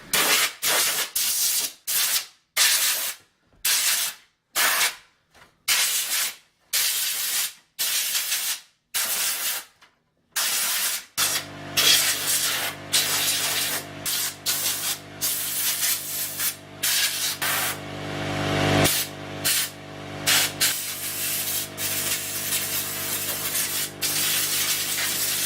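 Compressed air blasts dust out of an Alienware Aurora R4 desktop, arriving in a string of short, loud hissing bursts with brief gaps, then settling into a longer, steadier roaring blow.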